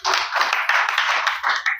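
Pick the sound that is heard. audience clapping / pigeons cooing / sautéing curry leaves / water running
audience clapping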